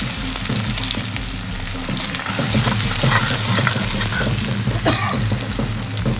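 Ginger, green garlic, chili and cumin fry in a pan with a steady crackling sizzle and the scrape of stirring, close and continuous without talk.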